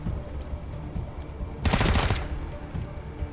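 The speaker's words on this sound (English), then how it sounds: "Can I just shoot that instead?" Gunfire in the Wasteland 3 video game comes as a quick automatic burst of several shots lasting about half a second, set against a busy, noisy game soundscape.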